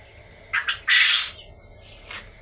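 Caged birds call nearby in a few sharp squawks and chirps, one longer loud burst in the middle and a fainter call near the end, over a low steady background hum.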